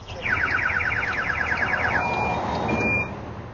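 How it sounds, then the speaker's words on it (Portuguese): Loud electronic alarm on a stolen cargo truck whose cargo lock has been triggered, a rapid repeating beep pattern over a steady rumbling engine, the beeping stopping partway while the engine drone continues close by. "A situação, o sirene tocando e o caminhão trepidando."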